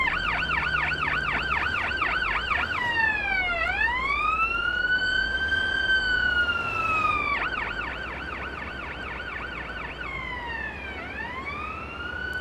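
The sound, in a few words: ambulance siren in video game Ambulance Life: A Paramedic Sim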